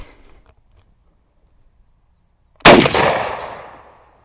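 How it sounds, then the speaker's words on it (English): A carbine fires a single loud, sharp shot of German Nazi-era ammunition after a quiet pause, the report ringing out and decaying over about a second, with no voices. "So we're going to put 5 rounds of this Nazi ammo through it."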